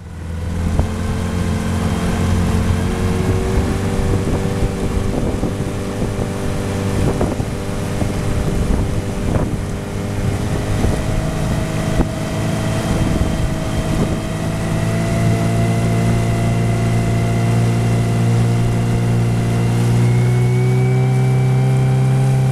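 A Suzuki DT9.9S outboard motor on a Forward MX360FL boat drones as it sets off on clear water, a close, loud engine hum that climbs in pitch as it picks up speed, with wind buffeting the microphone.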